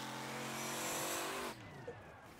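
A race car engine howls at high revs through a sustained drift in the modded racing game Wreckfest, holding steady before abruptly cutting off into a lower, fainter rumble.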